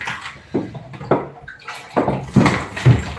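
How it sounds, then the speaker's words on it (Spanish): Water is poured into a cooking pot in several uneven splashy bursts with sloshing in between, close by and moderately loud. "Vamos a agregar un poquito de agua."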